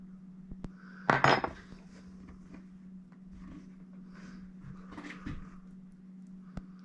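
Metal spoon clinking against dishes and pie tins while deer heart filling is spooned into pie shells in a kitchen, a sharp cluster of clatter early on followed by quieter scrapes and taps over a steady low hum.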